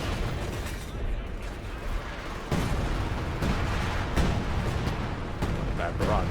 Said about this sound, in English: Profits does go for the 105 howitzer barrage